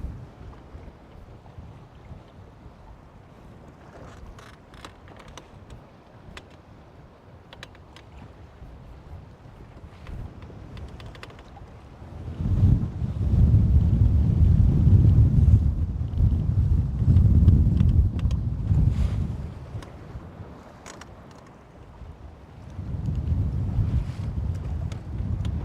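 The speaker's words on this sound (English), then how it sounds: "This is that north wind they were talking about." Cold north wind blows outdoors, rumbling against the microphone in gusts, softer at first, then swelling into loud, buffeting roars midway and again near the end.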